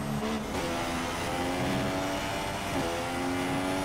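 An F1 car engine in the F1 2016 racing game at the Malaysian Grand Prix has a thin, weak tone, a continuous buzzing drone with shifting pitch that carries on steadily at moderate volume with no talking.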